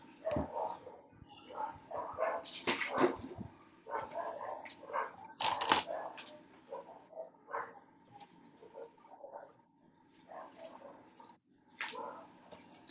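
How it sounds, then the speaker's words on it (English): Dogs bark near an online classroom, with irregular repeated sharp barks and yelps spread across the stretch at moderate distance, fairly faint overall. "Oh my god, these dogs."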